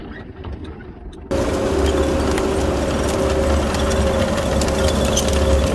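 A farm fertilizer spreader starts up abruptly and then runs with a steady loud mechanical drone and hum, a continuous rattling whir close by with no talk.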